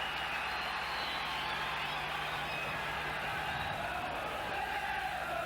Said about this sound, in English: Another good crowd in, as you can probably hear.